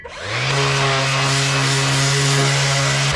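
A Makita power tool, used during rear wheel bearing work on a 2022 Toyota LandCruiser V8 VDJ79, spins up and then runs with a loud, steady whine close by.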